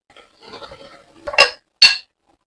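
Chopped tomatoes go into a pot for a one-pot sorghum mixed vegetable dish and are stirred. A soft scraping leads into two sharp, close metallic clinks of a utensil against the pot, with no voices.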